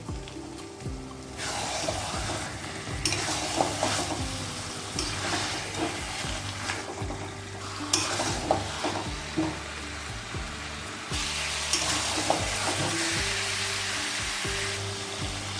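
Marinated chicken sautéed over raised heat in a pan for Bengali chicken do pyaza, a continuous loud sizzle with repeated scraping stirs and spatters, no talking.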